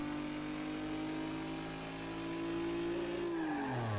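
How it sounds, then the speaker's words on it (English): A car engine in Need for Speed Underground 2 holds a loud, steady high-RPM drone, then the pitch falls off near the end as the revs drop. "Let's see what happens if I take the corner of high RPMs."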